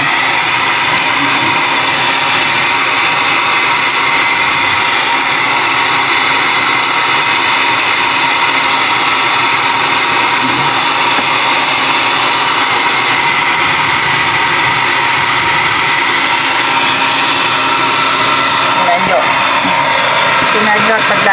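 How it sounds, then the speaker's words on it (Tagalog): A hair dryer blasts steadily and loudly to defrost a freezer, a continuous broadband whoosh with a constant motor whine that fills the whole stretch without pause. "Blower sa buhok."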